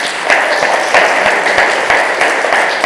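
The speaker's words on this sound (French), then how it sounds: "je vais vous demander de leur donner une grande main d'applaudissements" Audience applause at a farm household celebration in Lugny, a steady dense wash of many hands clapping loudly and continuously without a break.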